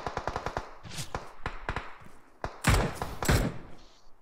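Gunfire in PUBG Mobile during a campus championship grand final: a rapid string of sharp shots, then a pause, then a few heavier, louder blasts. The bursts are close and punchy, and no one talks over them.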